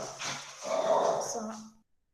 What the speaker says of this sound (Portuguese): Perdão pelo barulho, os cachorros aqui deram uma latidinha.